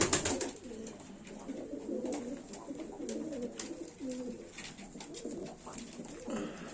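Pigeons coo repeatedly close by, overlapping throaty rolling calls mixed with soft rustles and wing flutters, at a moderate level with no speech.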